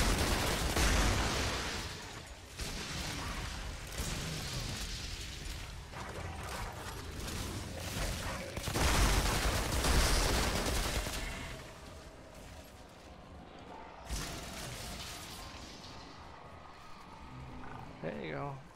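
Pistol fire in the shooter game Outriders, a Devastator-class Warden build, rings out as repeated sharp shots and clanking mechanisms amid dense combat noise, with someone talking over much of it.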